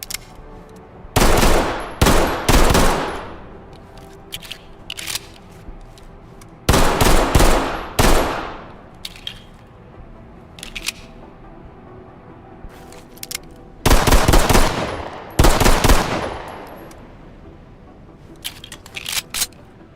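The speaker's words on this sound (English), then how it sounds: "we've got the new TLE 1911, a brand new sidearm derived from a custom 1911 from a decorated SWAT member in real life" TLE 1911 pistol, a custom SWAT-derived sidearm, fired in the tactical shooter Ready or Not, loud rapid strings of shots in several separate bursts with quiet gaps and small mechanical handling clicks between them.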